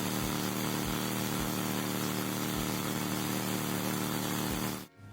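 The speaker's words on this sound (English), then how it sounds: "Here is the current bar that is the world's fastest overhead valve engine." A record-setting overhead valve racing engine runs at high output, a loud, steady, dense roar that holds without a break for several seconds and then cuts off abruptly at the end.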